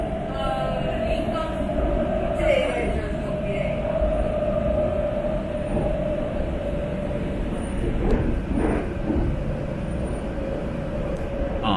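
A Shanghai Metro line 16 train runs through a station without stopping, heard from aboard as a loud, steady rolling rumble with rail hiss that swells briefly partway through and carries on throughout.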